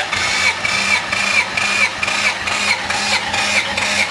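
A Mazda B2000 ute's engine cranks over with a steady, rhythmic starter churn, running evenly and loudly up close for several seconds without catching into a clear idle.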